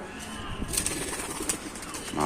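Pigeons flying up from a loft in Tanta give off brief bursts of flapping wings and soft cooing at close range, with a faint voice in the background.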